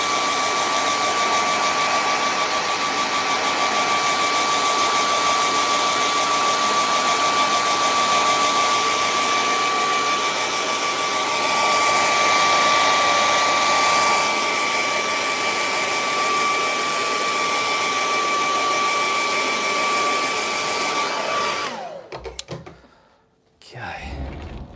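A hair dryer blows steadily at close range to dry paint on a waterfall painting, a continuous whooshing hum with a faint whine for about twenty seconds before it switches off, followed by brief handling noises.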